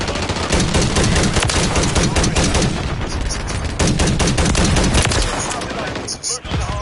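Heavy gunfire in Call of Duty: Modern Warfare 3, loud continuous automatic bursts with overlapping shots, easing off near the end, with game voices shouting under the shooting.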